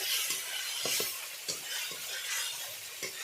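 Masala stirred and sautéed with a splash of water in a pan for an egg and potato curry, a steady sizzle under repeated scraping strokes of a spoon, close and fairly loud, with no talking.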